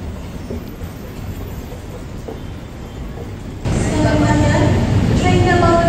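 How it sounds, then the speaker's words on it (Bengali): A train pulls into a platform at a metro station serving Batu Caves, its steady rumble and rolling hiss rising sharply louder midway as it arrives close by, with brake tones and announcement-like voices under the noise. "বাটু কেভস যাওয়ার ট্রেন 5 নম্বর প্ল্যাটফর্মে আসবে"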